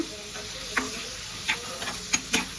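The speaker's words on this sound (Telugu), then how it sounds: "ఇప్పుడైతే చిన్న కట్ చేసుకున్న ఆనియన్స్ వేసుకోవాలా. ఇవైతే బాగా వేగల్లా," Small chopped onions fry in a pan with a soft background sizzle, punctuated by a few sharp stirring clicks and scrapes of a utensil, fairly quiet and without talk.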